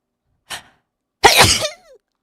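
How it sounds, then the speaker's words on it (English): A person sneezes once, a short burst followed by a louder, fuller sneeze with a trailing breathy tail, close to the microphone and otherwise in silence. "I'm gonna sneeze again, aren't I?"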